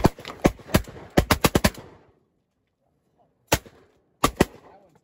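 Shotgun blasts during a Washington wigeon duck hunt, a rapid volley of sharp, loud shots with a few scattered reports after a pause, ringing out in the open marsh with no talk over them.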